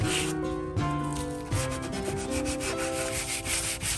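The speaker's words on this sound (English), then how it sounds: "next she's going to get and hand sand these edges because this is a rounded piece" Rounded wooden furniture edges are hand sanded with 100 grit sandpaper, making soft, close, continuous rubbing strokes in a quick back-and-forth rhythm with no talking.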